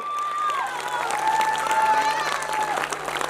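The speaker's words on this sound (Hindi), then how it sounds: "इन बच्चों का परफॉर्मेंस अगर आपको पसंद आया तो जोरदार तालियां बजाइए" Loud applause from a crowd fills the clip, with a tonal, voice-like line running through the steady clapping.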